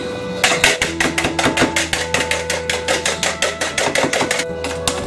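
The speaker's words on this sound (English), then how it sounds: "We're going to whisk it with a whisker." An egg whisked in a bowl with a wire whisk for an apple crisp batter: fast, evenly spaced metallic taps and clatters, close and fairly loud, repeating in a steady rhythm.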